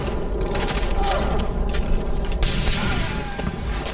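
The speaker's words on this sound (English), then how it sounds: "I also love the sound of the las guns." Lasgun fire in a Death Korps of Krieg animated battle: dense, crackling volleys of energy-weapon shots pouring out continuously with heavy rumbling booms underneath.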